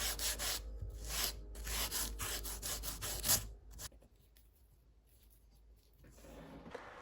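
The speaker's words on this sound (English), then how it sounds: "then I sand the surface to make sure that it's smooth and even" A leather sheath surface, already shaped with a skiving knife, is sanded smooth with close, steady rubbing strokes for about three seconds, then the clip falls to quiet with faint scraping.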